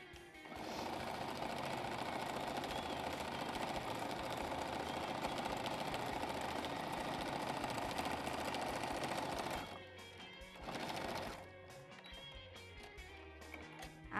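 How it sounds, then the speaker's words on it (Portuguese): A sewing machine stitches a seam in a long, steady, fast mechanical whir for about ten seconds, then stops, runs briefly again and falls quiet, close and moderately loud, with no talking. "vou fazer mais uma costurinha"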